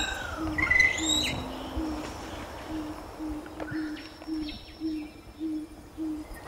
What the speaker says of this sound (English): Enjoy the soundscape of Tonga before you meet Ann Goth